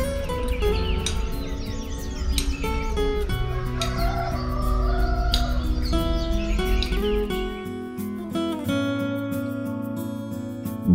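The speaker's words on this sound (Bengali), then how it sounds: "ঘুম ভাঙল পাখির ডাকে। আরিটার গ্রাম আস্তে আস্তে জেগে উঠছে।" At dawn in Aritar village in East Sikkim, roosters crow and other birds call in overlapping, sustained tonal phrases, steady and fairly close throughout, with no talking.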